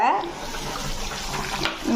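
A small amount of water is poured into a tumbler holding a spoonful of powder, giving a close, continuous splashing trickle.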